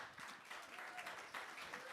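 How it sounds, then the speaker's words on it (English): An audience at a live-streamed concert gives steady, diffuse applause, faint and distant, with a voice briefly audible over the clapping. "Everyone, a round of applause for them."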